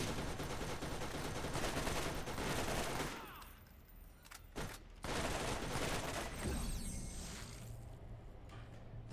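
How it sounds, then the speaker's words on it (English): Turret gunfire in the video game Borderlands rattles in dense, loud bursts that briefly drop away mid-clip and then resume with heavy, sustained shooting. "The turret just fucking destroyed me."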